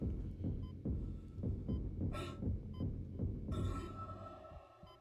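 Dead Space game heartbeat: a steady, loud, low double-thump pulse that repeats at regular intervals under a dark ambient hum, with a brief hiss and a swelling drone near the end.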